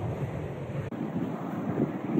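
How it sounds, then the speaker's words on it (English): Strong wind buffets a microphone aboard a boat at anchor during a storm, a continuous loud rushing roar with water sounds beneath, briefly dipping for an instant before resuming. "Windy, windy, windy."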